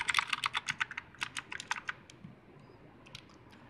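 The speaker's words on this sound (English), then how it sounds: "This keyboard is very suitable for typewriting, because when you click the key," Mechanical keyboard with LED backlighting being typed on, giving a close, rapid burst of crisp key clicks that thins to a few scattered taps before stopping.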